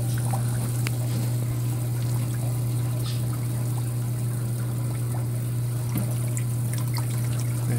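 Water trickles gently out of a Chaeto reactor in a reef aquarium setup, a soft continuous dribble over a steady low pump hum, with no talking.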